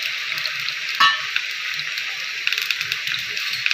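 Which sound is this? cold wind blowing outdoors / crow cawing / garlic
garlic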